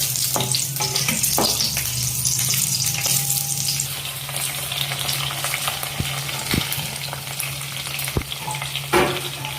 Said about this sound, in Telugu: ఫస్ట్ ఆయిల్ వేడెక్కాక పచ్చిమిర్చి వేసి వేయించుకోవాలి.